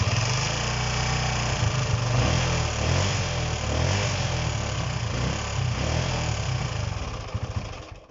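A Honda CB125 RS under restoration, flooded and without choke, its small engine chugging unevenly up close, then spluttering and fading out at the very end.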